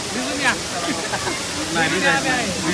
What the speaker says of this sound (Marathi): हा बघा तिथला किती छान असा धबधबा आहे